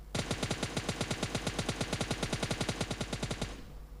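Automatic weapon fire in the PUBG Mobile Lite game, a rapid, steady burst of evenly spaced shots lasting over three seconds before stopping, loud and close.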